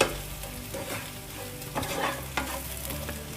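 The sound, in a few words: spices stirred with onion and capsicum in pan on low flame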